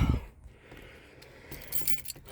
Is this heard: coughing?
no